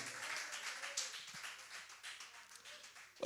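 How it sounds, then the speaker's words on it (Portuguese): A church congregation breaks into applause, steady broadband clapping that holds for a few seconds at moderate distance, with no talk over it. "vamos dar ao Senhor uma linda salva de palmas"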